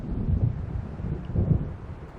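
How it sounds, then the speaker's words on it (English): Storm wind in Alan Wake rumbles low and gusty, two heavier surges swelling over a constant murky roar, with no voices. "there's a storm coming"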